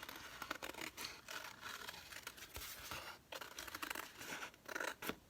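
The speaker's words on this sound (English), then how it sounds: "I think I'm going to cut that out, kind of go around it just a little bit to get rid of the birthday." Scissors snipping and slicing through paper while trimming a cutout for a collage, a steady run of close, crisp cuts and rustles with short pauses, and no voices.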